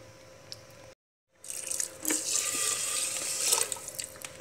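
Water poured into a pot of rice for cooking in a home kitchen, a steady splashing pour that starts after a brief silent gap and carries on for several seconds close to the microphone.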